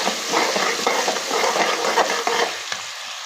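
Garlic, ginger and chopped medium onion fry together in a pan for an egg curry, producing a loud, continuous close-up sizzle with stirring scrapes that fades near the end.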